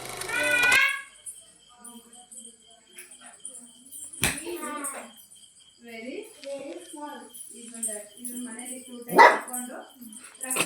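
A dog barks in a few sharp, separate outbursts spread across the scene, close and loud, while people talk throughout between and over the barks.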